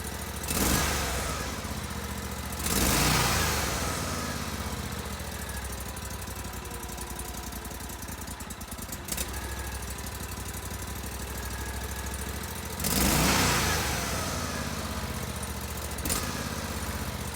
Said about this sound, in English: I'll rev it up a couple times. Let's see what it sounds like at the end.